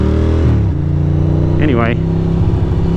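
A Ducati motorcycle engine running on a ride through Queens, New York, a loud steady drone with a shift in pitch early on, as someone speaks briefly over it.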